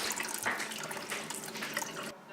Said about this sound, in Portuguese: recolhemos as sementes que limpamos na peneira na água corrente